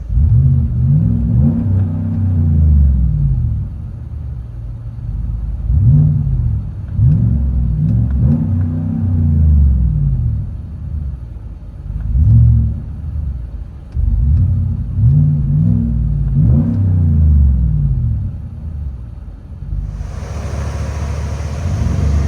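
A 2017 GMC Yukon Denali XL's 6.2L V8 with a Dynomax Race Bullet exhaust revs repeatedly in surging bursts, its loud rumbling exhaust rising and falling, heard close from inside the vehicle with no talking.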